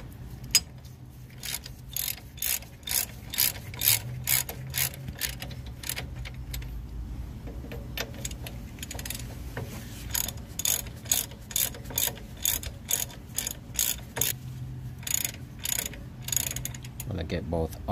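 A hand ratchet tightens bolts on a Ford E250 ball joint, giving close, rapid bursts of clicking strokes that repeat steadily, stop briefly, then resume.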